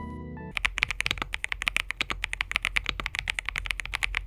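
Rapid, continuous clacking of a mechanical keyboard being typed on, close up, with even crisp keystrokes and no talking.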